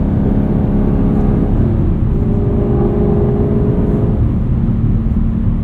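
Modified 2022 Chevrolet Camaro SS 1LE with a V8 engine, a loud steady low rumble and whir held continuously close by, with no talk.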